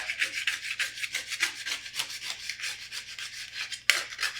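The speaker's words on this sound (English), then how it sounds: "I'm gonna use a small spatula and try to scrape off." A small spatula scrapes dried sourdough starter off a surface in steady, repeated rasping strokes, close and fairly quiet, with a slightly sharper scrape near the end.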